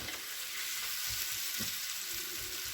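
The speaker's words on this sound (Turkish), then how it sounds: "Bunları böyle güzelce biraz kavurup iyice 5-10 dakika daha pişirdikten sonra" Mushrooms and eggplant sauté in a pan with a steady, close, bright sizzle and a few soft stirring scrapes, with no voices.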